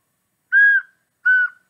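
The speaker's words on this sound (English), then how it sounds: "The whistle." Two short, clear toots of a whistle in a children's flea market song, evenly spaced about half a second apart against silence.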